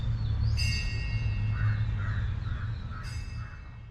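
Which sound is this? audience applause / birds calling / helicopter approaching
birds calling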